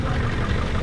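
A Subaru Forester with an FB20 engine, whose oil has mixed with water, idles steadily close by for a brief stretch, giving a continuous low mechanical hum with slight knocking texture.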